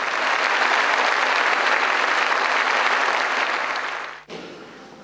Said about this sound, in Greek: Δικό σας το χειροκρότημα.